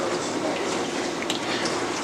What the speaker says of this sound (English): get your canola oil, any brand. Pour it in the pot.